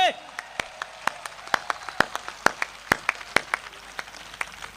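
Audience applause at a Hindi comedy poetry show, a steady patter of clapping with sharp individual claps standing out rhythmically across the clip, fairly close and without voices over it.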